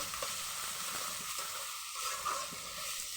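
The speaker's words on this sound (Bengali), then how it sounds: "পরিমাণ মতো তেল দিয়ে দিলাম কাঁচামরিচ পেঁয়াজ দিয়ে দিলাম" Green chili and onion frying in oil in a pan for a dried-fish curry with new potatoes and pumpkin, giving a steady close sizzle with faint stirring scrapes throughout.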